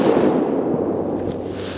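A single suppressed shot from a 22 ARC rifle loaded with Hornady 80-grain ELD-X bullets, heard as a muffled close-range pop with a brief dull tail and no talk.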